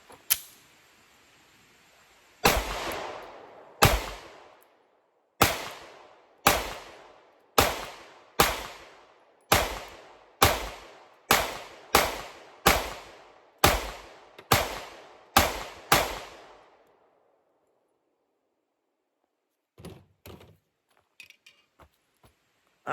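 A Sig P365 AXG Legion pistol fires about fifteen sharp, loud shots in an even, fairly quick string at an outdoor range, each crack trailing off into a short echo, followed by a few quieter clicks and handling sounds.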